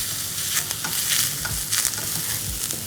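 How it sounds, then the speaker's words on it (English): Onions sizzle and crackle steadily in hot oil in a pan, loud and close, with stirring scrapes mixed in and no voices. "So let's add the onions. Nice and sizzling."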